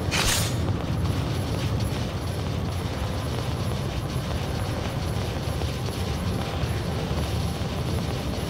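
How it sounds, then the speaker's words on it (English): A helicopter arrives in the video game God Eater Resurrection, producing a loud, steady rotor and engine roar that fills the whole stretch with no voices over it. "What can we do until the chopper gets here?"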